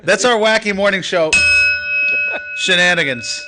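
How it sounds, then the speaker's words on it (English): A small handheld bell rings once in a radio studio between stretches of talk, its bright tone sustaining for about a second before voices resume. "That's a bell that one of our listeners brought us."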